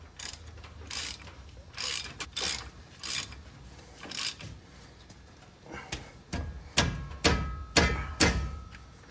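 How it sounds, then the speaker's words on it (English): A ratchet wrench tightens brake caliper bolts on a Chevy Silverado, giving close, irregular bursts of sharp clicking strokes with short pauses between them and no talk. "I usually just crank these down as tight as I can with my 1/2-inch wrench here"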